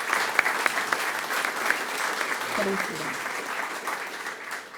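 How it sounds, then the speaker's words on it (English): A ribbon-cutting crowd at a county sports hall of fame gives a steady, dense round of applause for an honoree, sustained throughout, with a voice briefly speaking over it. "let's give Mark a nice big round of applause"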